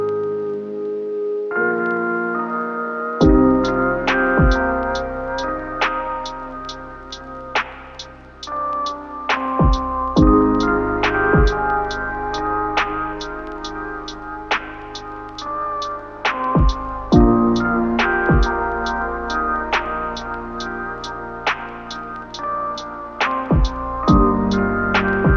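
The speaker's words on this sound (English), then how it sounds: "I used Spitfire Labs for the chords and added Cymatics Origin to it." Lo-fi chord progression played on Spitfire Labs layered with Cymatics Origin, soft sustained keys changing every couple of seconds over a low bass and a steady ticking hi-hat pulse, with no voices.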